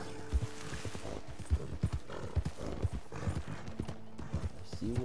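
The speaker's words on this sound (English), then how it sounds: "Are those wild horses?" Horses in the video game Red Dead Redemption 2 clip-clop steadily with a few heavier hoof thuds, moderately near and fairly quiet, with faint game ambience under them.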